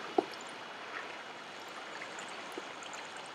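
Water flows continuously through a slime trap in Minecraft, a soft steady trickling stream with a faint click near the start and another small blip later, no voices present.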